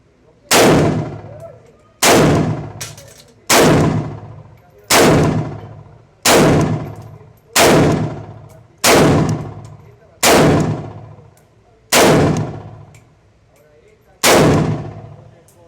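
A Draco pistol fires ten loud single shots at a steel target 15 yards away, spaced roughly every one and a half seconds, each a sharp crack with a short ringing tail.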